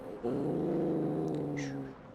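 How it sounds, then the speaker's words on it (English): A cat growls loudly, a sustained low rumbling growl swelling up after a brief quiet start and holding for about one and a half seconds before easing off, close by, with no talk. "That is very loud growling."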